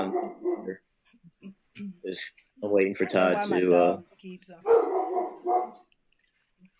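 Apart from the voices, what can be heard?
dog barking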